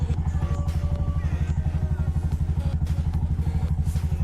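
A Bajaj motorcycle engine idles steadily after starting, its rapid, even low thump running throughout at close range with a little mechanical clatter on top.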